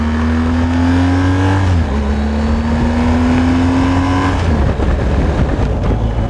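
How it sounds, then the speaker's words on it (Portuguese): A BMW R 1250 GS motorcycle engine drones steadily and loudly while riding, its pitch rising, dropping at a gear change, then climbing again under continuous road rumble, with no talking. "Olha o ronco do motor."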